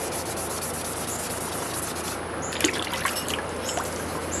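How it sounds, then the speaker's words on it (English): Water trickles and splashes while an aluminum Magnalite pot is scrubbed with dishwashing soap, steady rubbing and wet swishing with a few light knocks against the metal. "we'll take it inside and wash it"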